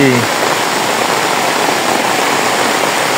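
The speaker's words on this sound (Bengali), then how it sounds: "বৃষ্টি পড়তেছে অনেক" Heavy rain pours down steadily on paddy fields in a dense, loud hiss with no breaks, as if close by on surrounding surfaces.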